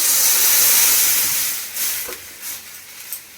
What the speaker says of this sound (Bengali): এদিকে একটু হলুদ দিয়ে সবজিগুলোকে ভালো করে ভেজে নিয়েছি আর এবার জল দিয়ে দিই